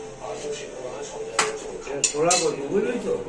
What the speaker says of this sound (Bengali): এখন তাদের বাগানের কচু দিচ্ছে আমাকে কেটে।